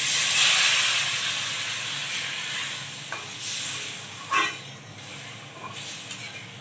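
Water poured into a pan of fried spices hisses and sizzles loudly, with steam rushing in a strong burst at first that slowly settles, broken by a few stirring scrapes and bubbling pops.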